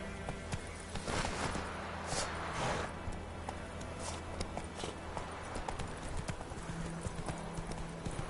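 Geralt's horse in The Witcher 3 gallops along, rapid rhythmic hoofbeats thudding close and loud, with a brief whinny and game ambience around them.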